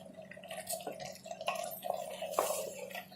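Spinach and mutton are stirred together in a cooking pot, with soft wet squelching and scattered clinks of a spoon against the pot, quiet and close, no talking.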